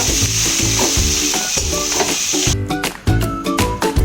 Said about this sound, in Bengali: এবার মশলার সঙ্গে আলুটা ভালো করে আমি কষিয়ে নেব।